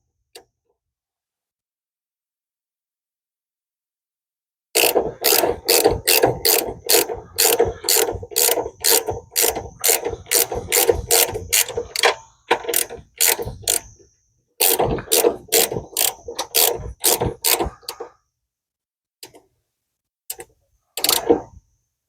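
A ratchet tightens a nylock locking nut on a brake linkage, rapid loud clicking in bursts of strokes with short pauses, close up and alone.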